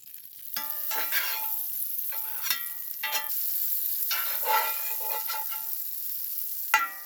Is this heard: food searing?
yes